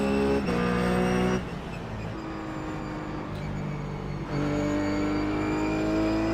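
A RUF GTC race car engine at Lime Rock in the iRacing sim, a loud steady drone that drops off as the throttle eases and then climbs back up, alone without talk.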